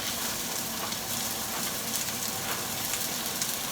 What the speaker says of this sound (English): I put some frozen peas and corn